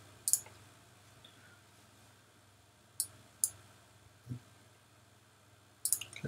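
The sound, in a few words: mouse clicking a play button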